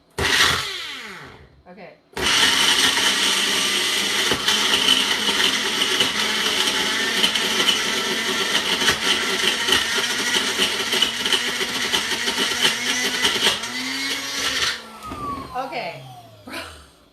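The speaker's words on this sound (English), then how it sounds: "we're just going to use the magic bullet and see what happens" A Magic Bullet blender whirring loudly and steadily for about twelve seconds at close range, with brief mechanical clatter before it starts and pitch sweeps as it spins down; a voice speaks briefly near the end.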